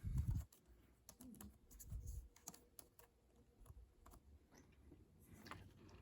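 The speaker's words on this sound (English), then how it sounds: "I'm going to type in the word thank you." Typing on a computer keyboard in a woodworking sign-design session comes as sparse, crisp clicks in short clusters, close and fairly quiet, after a brief low thump at the start.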